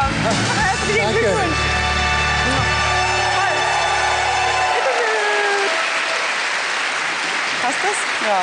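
Audience clapping fills the space, heard under a droning, sung or tonal voice for the first few seconds before continuing alone as broad, steady applause.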